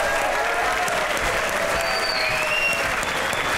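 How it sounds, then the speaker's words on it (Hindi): Steady, dense applause from a television studio audience fills the space evenly from start to finish, a continuous loud wash of clapping hands with a faint crowd murmur underneath. "आप सबकी भरपूर तालियों में"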